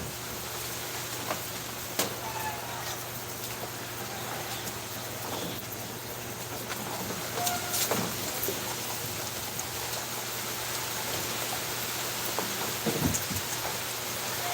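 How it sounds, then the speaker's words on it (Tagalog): Steady rain with wind patters close by for a long, continuous stretch, a soft even hiss dotted with occasional louder drips and knocks, fairly faint overall and with no talking. "Talagang yung ulan na hangin-hangin pa."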